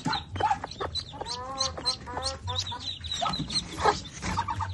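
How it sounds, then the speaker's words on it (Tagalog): A hen clucks repeatedly at close range in a backyard poultry area with newly hatched ducklings and chicks, giving a steady run of short, throaty clucks with faint voices in the background. "Ito naman ang chicken."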